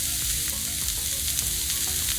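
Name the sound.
sauteing on a Blackstone griddle over high heat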